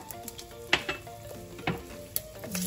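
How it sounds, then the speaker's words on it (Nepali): Small garlic and a piece of ginger frying in hot oil in a pan, a quiet steady sizzle broken by a few sharp clinks and scrapes of a utensil against the pan. "मैले यसमा एउटा सानो लसुन राख्दैछु अनि एउटा सानो टुक्रा अदुवा।"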